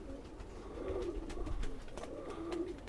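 A Khaki Chua pigeon coos softly in a few low, rounded phrases against quiet background noise.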